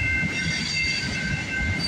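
A freight train rumbles past close by at night with a continuous roar and high metallic squealing tones from the wheels, steady and loud throughout.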